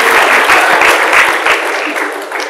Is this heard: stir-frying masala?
no